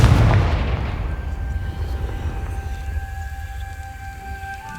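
A Confringo fire spell bursts in the Hogwarts Legacy video game with a sharp explosive thump at the start, then a decaying rumble and a faint lingering magical tone.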